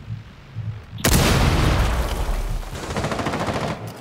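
Sustained automatic gunfire in Rainbow Six Siege, a loud continuous burst of rapid shots lasting several seconds after a quieter opening, close and dominant.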